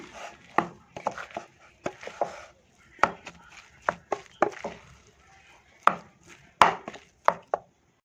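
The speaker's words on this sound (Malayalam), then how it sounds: "ഈ കമ്പ് വെച്ച് ഇതുപോലെ നന്നായിട്ട് ഉടച്ചെടുക്കണം കേട്ടോ" Boiled dried tapioca being mashed with a wooden stick, heard as a series of irregular, fairly loud thumping strikes with short pauses between them, close by and with no talk.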